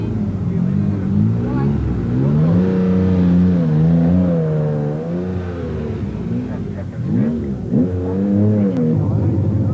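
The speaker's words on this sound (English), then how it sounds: "Leading the field in a Works Vauxhall Astra, borderer Andrew Wood giving the car a run" A Works Vauxhall Astra rally car, driven by Andrew Wood at the 1985 Trossachs forest rally, revs loudly and close by, its engine note climbing, dipping and surging again in repeated sweeps.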